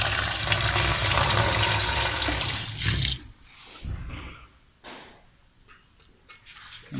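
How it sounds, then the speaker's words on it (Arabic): Water pours in a loud steady rush into a washing machine tub with a leak fault for about three seconds, then stops, leaving faint trickles and drips. "كما ترون عندما نسكب الماء"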